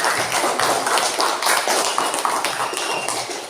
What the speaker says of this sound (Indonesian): Tepuk tangan untuk Mas Rudi